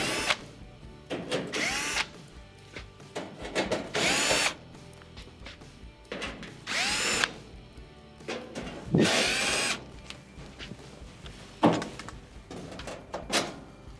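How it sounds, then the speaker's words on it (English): A power drill backs out quarter-inch screws from the bottom rear panel of a Frigidaire oven, several short loud whirring bursts spaced a few seconds apart, with metallic clatter and handling noises between. "To remove your bottom rear panel, you remove the 1/4-inch screws."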